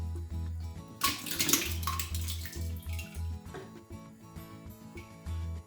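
Homemade full-fat yogurt, about 2.5 liters, is poured into a butter churn machine, a soft wet glugging splash with a louder gush early on, then lighter trickles and small container knocks.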